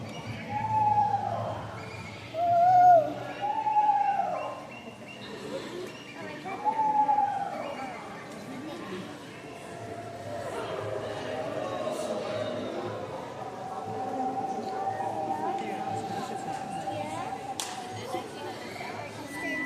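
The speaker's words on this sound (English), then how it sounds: "Instead, they make more of a wavering whistle call." An eastern screech owl gives a wavering, horse-like whistle call, several descending trills in close succession, followed by a softer, longer sustained trill over faint background murmur at an outdoor bird show.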